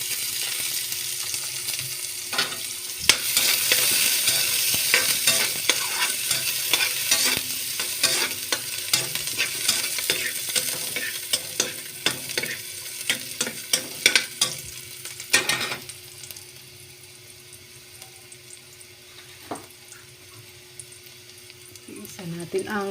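Onion stir-frying in a pan for pancit sizzles steadily and loudly, broken by frequent scraping and clattering stirs, with a brief lull near the end.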